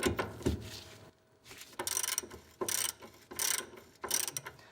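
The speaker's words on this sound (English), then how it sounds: "And now loosen up your castle nut." Ratchet loosening a castle nut on an outer tie rod end of a 1982-1992 F-Body, heard as five or six close, rapid clicking bursts separated by short pauses.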